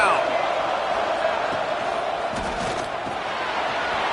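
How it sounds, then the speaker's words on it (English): A football stadium crowd roars on a third down, a dense, loud, sustained wall of cheering and yelling with scattered shouts standing out. "The crowd electric, trying to help Tech on this third down."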